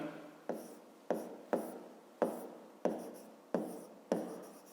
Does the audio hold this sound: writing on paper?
yes